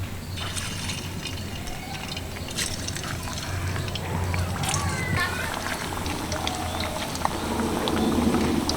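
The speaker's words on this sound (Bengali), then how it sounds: "এবার এক এক করে পিঠেগুলো ছেড়ে দেবো" Pitha pastries, pressed with a perforated ladle, fry in a wok of well-heated white oil, giving a steady loud bubbling sizzle that builds slightly over time, with speech over it.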